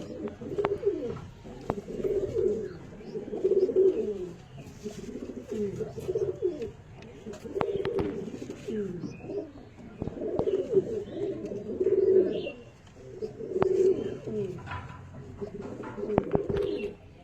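Andalusian Phulshira pigeons cooing: steady, repeated low throaty coos from several birds, close by and continuous throughout.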